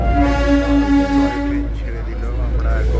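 The Darjeeling toy train pulls away with a loud, sustained horn blast lasting over a second, over a deep rumbling engine and rail noise that continues once the horn stops.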